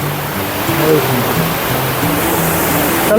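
Water pours down from above at Panchalingeswar in Odisha, a loud, constant rushing roar close by, with a voice speaking briefly over it and a faint melodic tone in the background.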